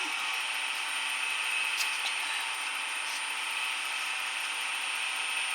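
A spinning wood lathe runs at a steady high pitch while a pen is hand-polished, giving an unbroken, moderately loud whir with a faint rubbing texture and no talking.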